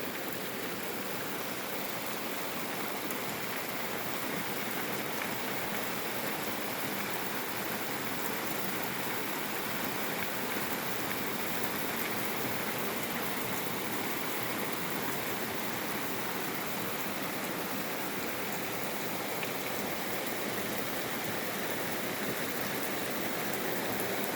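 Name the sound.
rain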